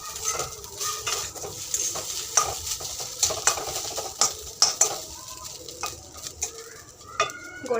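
Cold food being reheated in a pan, a soft constant sizzle under repeated clinks and scrapes of a metal spoon stirring against the pan, close and fairly loud.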